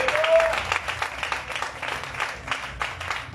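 A church congregation applauds in worship, producing a steady dense wash of many hands clapping that fills the room, with faint voices mixed in.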